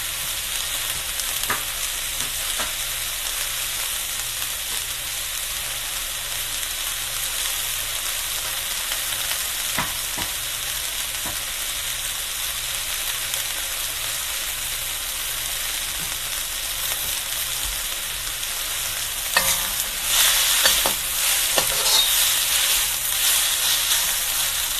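Onions and vegetables fry in a pan, a steady broadband sizzle running throughout with occasional louder crackles and stirring bursts near the end, close and continuous with no talking.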